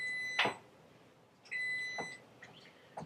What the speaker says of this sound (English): the timer's telling me that the noodles are done, and if I don't address it, it's going to keep beeping at me